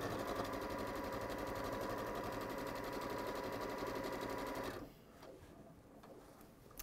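A sewing machine stitches a quilted table runner with wadding on one side, no walking foot fitted. It runs loud, steady and fast for several seconds, then stops, leaving quieter handling sounds.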